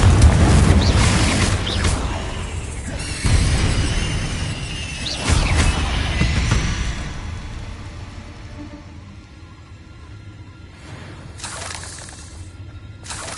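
Fiery Confringo blasting spells burst in Hogwarts Legacy, loud impacts landing in a rapid cluster over the first seven seconds, then a quieter stretch with a couple of later hits amid game ambience.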